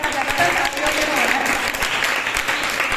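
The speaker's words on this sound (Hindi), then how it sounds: "सबके लिए बहुत बहुत जोर से ताली बजाई जाए" Audience at a school seminar on festivals in Delhi gives speakers a loud round of applause, dense, steady clapping throughout, with some voices faintly mixed in.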